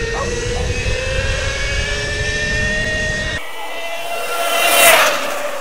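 Small 50cc mini motorbike engine revving hard during a wheelie attempt, a loud high-pitched whining buzz with steady tonal drone that shifts and swells near the end.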